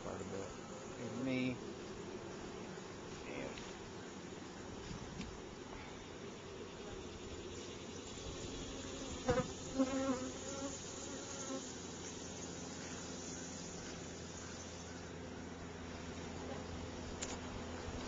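Honeybees buzz steadily around hives on a large apiary of some 4,500 hives, a continuous insect drone with a few brief nearby bumps and handling sounds partway through.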